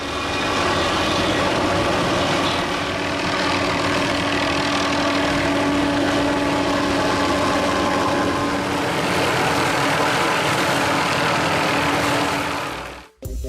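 A helicopter fitted with a cutting mechanism trims branches near power lines, giving a loud, steady rotor and engine drone with a continuous whirring hum throughout, ending abruptly.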